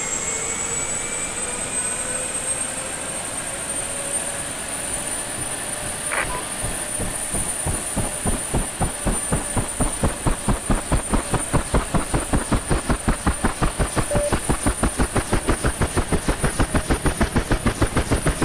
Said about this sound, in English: So, we should have a good engine start now.